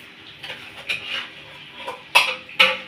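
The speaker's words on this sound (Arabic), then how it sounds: "هقطع بقى لحمه، هجيب لحمه عليها" A knife clinks and scrapes against a plate while Eid meat is cut for Egyptian fatta with sauce: soft scraping with a few sharp, close metallic taps that grow louder toward the end.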